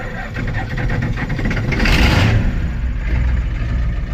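A 1985 Ford F250 with a 6.9 IDI diesel engine cranks and fires up quickly, settling into a rough, rumbling idle close by, with a person's voice briefly audible over the engine.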